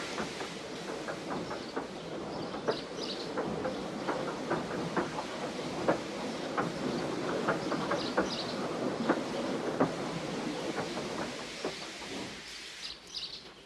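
A steam locomotive in a Roblox game rolls slowly onto a siding, with a steady run of rhythmic wheel clicks over the rails and faint bird calls in the background.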